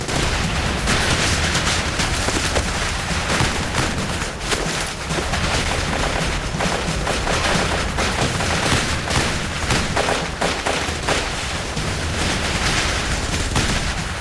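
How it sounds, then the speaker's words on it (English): Dense, continuous gunfire in a battle rattles without pause, many shots overlapping into a steady crackling roar, loud and close, with occasional heavier booms mixed in. "The only cover was provided by our own gunfire."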